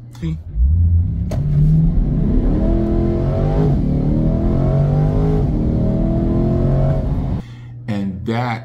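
A 2023 Corvette C8 Stingray 1LT launches hard from 0 to 60 on a road, its loud engine climbing steadily in pitch through several gear pulls for about six seconds before dropping back to a lower idle-like rumble.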